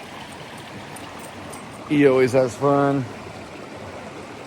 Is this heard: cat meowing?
no